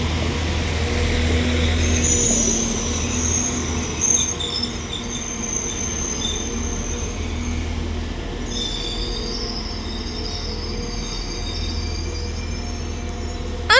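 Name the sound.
Northern Class 195 train arriving at station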